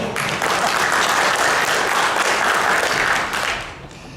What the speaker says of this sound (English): One more round of applause for Kavya.